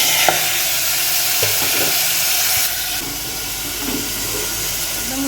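Chicken frying in a pan with onion and garlic, a steady loud sizzle and hiss throughout with a few soft clinks of stirring, no voices.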